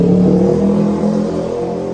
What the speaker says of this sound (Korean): 또 여기로 나오니까 오토바이 소리 지옥.